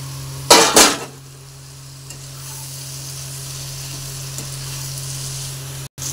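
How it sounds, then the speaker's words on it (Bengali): Okra and potatoes sizzle steadily in a pan, opening with a couple of sharp scraping stirs of the spatula, then a continuous close frying hiss. "ঢেঁড়স আলু ভাজাবো।"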